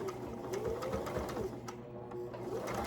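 A sewing machine runs steadily while back stitching a patch over torn window screen mesh, its motor humming with a rapid, even needle chatter close by for the full span.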